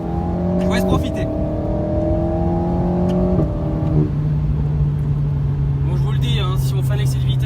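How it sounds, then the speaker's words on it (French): Alpine A110 engine revving at idle, loud steady rising and falling tones with a few exhaust pops, the engine note settling lower in the second half. "il y a des pétarades à l'échappement qui sont juste délicieux"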